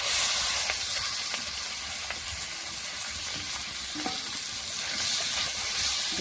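Figs, potatoes and eggplant fry in a pan with a steady, close, even sizzle and hiss, and a few faint clinks of stirring come through. No one speaks.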